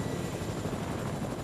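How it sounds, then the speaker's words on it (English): A helicopter in a battle royale video game drones with a steady, close rotor rumble that holds at an even level with no talking. "The chopper's broken."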